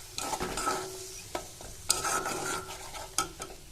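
Mustard, poppy seed and chili paste sautéed with a little water in a pan for a drumstick and potato dish, a soft sizzle broken by several clattering scrapes of a spatula stirring.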